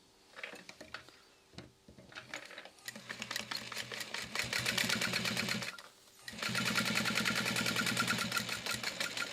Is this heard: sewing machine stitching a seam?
yes